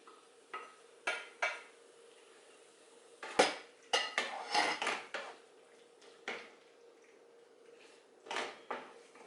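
Crème fraîche and pasta being stirred together in a pan, giving a series of clinking and scraping utensil knocks against metal, with sharper clusters spaced out over the stretch and quiet gaps between them.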